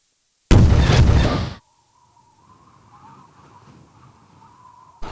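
A loud, close blast of gunfire or explosion in Garry's Mod, lasting about a second and stopping abruptly, then a faint steady engine drone with a final burst at the end; no talk.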